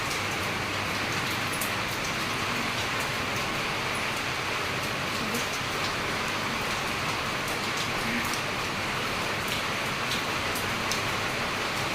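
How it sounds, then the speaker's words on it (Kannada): Heavy rain pours without a break, a dense steady hiss that stays loud and even throughout, with occasional sharper drops spattering over the wash. "ಬೆಳಗ್ಗೆಯಿಂದ ಮಳೆ ಸುರಿತಾನೇ ಇದೆ"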